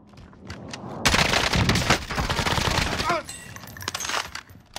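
Rapid bursts of gunfire in the shooter Warzone, loud and dense, with sharp single shots and clatter tailing off, over a quieter opening; voices talk over parts of it.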